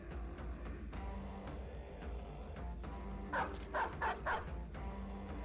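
Dogs bark in a short cluster of sharp yips during a Battle Brothers battle with the Legends mod, set against a steady low game ambience.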